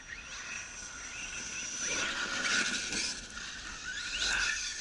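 A Traxxas E-Revo RC car with an Orion motor on a 4S setup is driven hard, its high electric whine rising and falling in bursts with faint tyre scrub, heard from some distance without talk.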